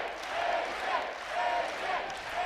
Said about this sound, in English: Crowd chanting AJ